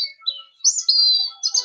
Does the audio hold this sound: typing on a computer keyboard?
no